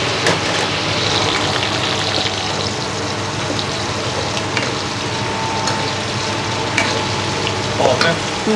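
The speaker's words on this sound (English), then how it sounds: "when this oil getting hot, you can fry this one" Chicken pieces fry in hot oil for biryani, making a loud, close, continuous sizzle and crackle with occasional sharper pops and stirring scrapes, heard without talk.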